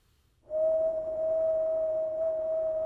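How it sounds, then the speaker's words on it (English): A single steady human whistle recorded into a laptop microphone, held as one pure sustained tone for over two seconds, loud and close with faint room noise beneath, used as a sampler sample. "I just whistled into the mic"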